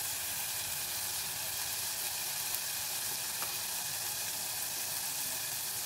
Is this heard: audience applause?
no